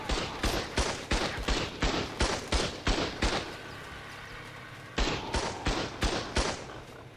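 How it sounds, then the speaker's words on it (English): Rapid bursts of gunfire from Ark Survival Ascended gameplay, a run of about ten evenly spaced sharp shots, a short pause, then five more, moderately loud and alone. "There was something big out here that was shooting."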